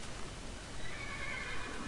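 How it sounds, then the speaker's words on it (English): Horse neighing in the Minecraft video game, a single whinny over game background noise, fairly clear and continuous for about two seconds. "Hey, I know, you're a horse."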